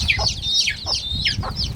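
Country chickens on a free-range farm clucking steadily, several birds calling close by in a rapid overlapping rhythm of short chirping clucks, fairly loud and without talk.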